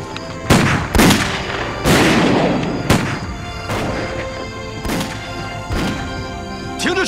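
Loud gunfire in a film battle scene: about seven heavy, booming shots spaced irregularly a second or so apart, each with a rumbling tail, and no talking.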